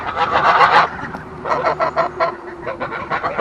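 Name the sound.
ducks calling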